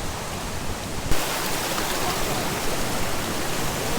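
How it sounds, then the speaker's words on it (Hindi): Two mountain streams in a green valley in Gupis, Gilgit-Baltistan, one small and one large, rush steadily in a loud, continuous broadband roar with no pauses. "इस साइड पे ये छोटा नाला जा रहा है और ये बड़ा पानी का नाला जा रहा है दूसरी साइड पे"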